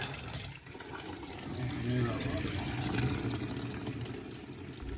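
Well water pouring into a bath for an axolotl makes a steady, close, continuous rushing splash that holds for the whole stretch.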